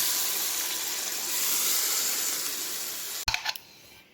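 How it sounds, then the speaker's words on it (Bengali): Boiled mutton stock is poured into a hot pan of Rajasthani mutton, producing a steady, fairly loud hiss that cuts off abruptly into a few sharp clicks and clunks. "এবার আগে থেকে সিদ্ধ করা যে মাটনের স্টকটা ছিল, মানে জলটা, তো সেই সেদ্ধ জলটা দিয়ে দিচ্ছি"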